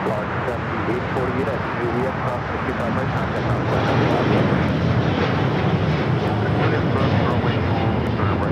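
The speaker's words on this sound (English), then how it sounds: "This is All Nippon Airways Flight 5 taking off to Tokyo Narita on the 787-9 Dreamliner." An All Nippon Airways Boeing 787-9 Dreamliner takes off from Los Angeles LAX, its engines a loud, steady broadband roar that holds throughout and swells slightly toward the end, with voices talking underneath.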